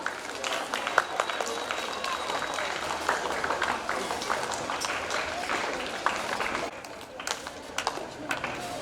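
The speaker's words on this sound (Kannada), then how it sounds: "ಜೋರಾದ ಚಪ್ಪಾಳೆ ಮಕ್ಕಳ." Children clapping loudly at a school World Environment Day function, a dense, steady burst of applause lasting several seconds, with voices talking underneath.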